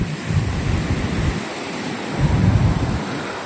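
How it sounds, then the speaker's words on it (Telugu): Water rushes steadily through the gates of the Somasila dam on the Penna river, a broad, continuous roar with surging swells and wind buffeting the microphone. "ఇప్పుడు మీకు అక్కడ వాటర్ ఫ్లో అవుతుంది ఎన్నో గేట్ల నుంచి అవుతుందో"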